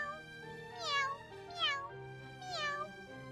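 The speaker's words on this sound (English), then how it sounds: "Well, this cat's happy, so I'll let you off easy just this once." A cat meows three times in Fire Emblem: Three Houses, with clear, rising and falling cries over a soft game music background.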